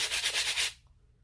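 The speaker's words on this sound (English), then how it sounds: "Sand it lightly on the outside edge" Brief rhythmic scratchy rubbing of 180-grit sandpaper against the outside edge of a bamboo hoop, a few quick strokes, then it stops into near silence.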